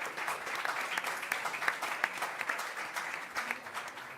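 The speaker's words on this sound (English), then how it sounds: "Give them a round of applause" An audience at a cycling race press conference applauds the riders, producing a steady stream of many hands clapping for about four seconds, moderately distant and alone without speech.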